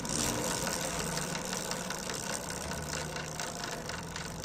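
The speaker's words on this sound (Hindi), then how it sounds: "जो चैन नॉइज़ होती है ना, वो नहीं जाती है, यानी कड़ कड़ वो करती रहती है, जैसे कि इस बाइक में भी आ रही है।" A running motorcycle with a loose, worn drive chain idles close by, a steady engine hum under a continuous rattling clatter, with no talk.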